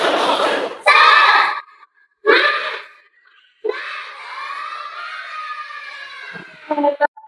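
Primary school children in an Indonesian classroom shout a spirit chant in unison, in short loud bursts followed by a long sustained group cry, close and energetic.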